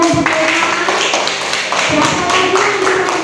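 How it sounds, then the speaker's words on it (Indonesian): A classroom of students breaks into applause, a burst of fairly loud, dense hand claps that continues through the clip, with a voice talking over them. "Tepuk tangan dulu."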